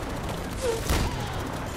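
A short burst of gunfire in the Far Cry video game, one quick fusillade cracking over a steady in-game background hum.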